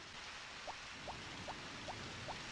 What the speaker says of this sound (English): But sorry, Binky, you can't come out today because it's raining.